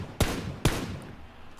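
Two sharp, loud gunshots in the battle royale shooter PlayerUnknown's Battlegrounds, spaced about half a second apart, each with a short decaying tail over quiet outdoor ambience.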